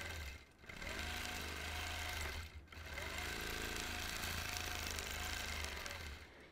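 A sewing machine stitches a freehand orange peel quilting pattern, its motor running in a steady, close whir that breaks off briefly twice before carrying on, with no talk.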